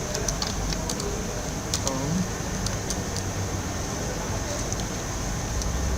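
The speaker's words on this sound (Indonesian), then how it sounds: "Tentu saja kita akan di sini akan mengetik lagi guys" Keys clatter on a computer keyboard in scattered, irregular clicks over a steady background hiss.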